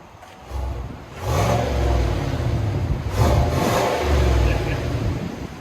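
A 2021 Chevy Silverado Trail Boss 5.3L V8 with stock exhaust idles low and steady, then revs up in two or three swelling bursts that settle back, fairly quiet and mellow, with no voices.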